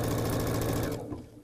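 A sewing machine runs briefly at speed while stitching a fabric bias strip for appliqué, a close, steady whirring buzz that stops abruptly about a second in.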